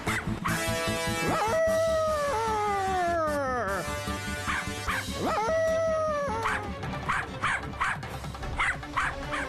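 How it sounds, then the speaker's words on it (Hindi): A dog howls in long drawn-out wails, breaking into a rapid series of yips and barks, fairly close and loud. "तो इस इमारत के सामने शेरू खड़े होकर भौंक रहा है।"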